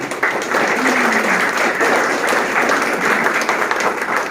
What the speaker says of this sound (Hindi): एक बार जोरदार ताली इन अभ्यागतों के लिए